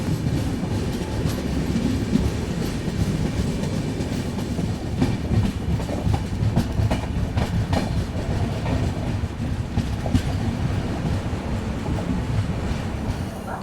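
An AC double decker express train runs steadily toward Kuppam station, a continuous close rumble of wheels on rail with light clickety-clack rhythm throughout.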